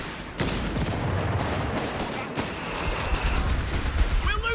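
Dense gunfire in Company of Heroes 3 battles, rapid rifle and machine-gun bursts crackling continuously with heavier thuds, loud and close, with soldier voices shouting briefly over the fighting.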